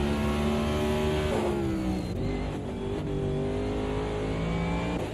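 Race cars in a CASSCAR Roadmaster Series sim racing game at the Cleveland GP roar steadily and loudly, engine pitch wavering and dropping briefly midway as they run side by side, with no talk.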